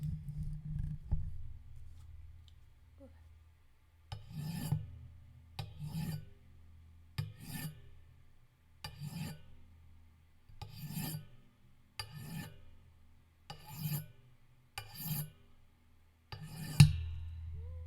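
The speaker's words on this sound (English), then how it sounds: "now we will do the mic arm sharpening" A microphone arm being filed by hand in a quiet room, with about nine short rasping strokes at an even pace after a low hum at the start.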